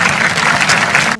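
Audience applause with whoops during a lively celebrity chat-show segment welcoming Olympic javelin champion Neeraj Chopra, a steady, dense clapping wash that fills the whole moment at close range.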